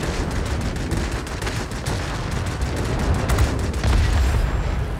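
Anti-aircraft guns in World of Warplanes fire in a dense, continuous barrage of rapid cracks and thumps, loud and steady across the whole stretch with no talking.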